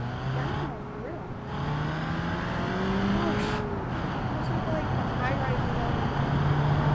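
Video game car driving through a virtual island town, a steady engine drone with shifting pitch as it accelerates and cruises, close and continuous under a person talking.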